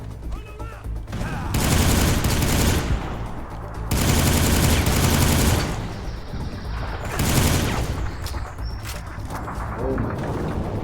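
Bursts of automatic gunfire in the shooter game Soldier of Fortune: Payback, three dense, loud volleys separated by brief lulls, with faint mechanical clicks and booms between them.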